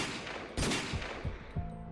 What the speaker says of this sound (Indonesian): Tak lama suara tembakan terdengar 2 kali.